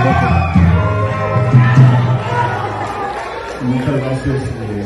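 A large Catholic gathering cheers and shouts loudly in a hall, a sustained roaring crowd with whoops and raised voices, close and loud throughout.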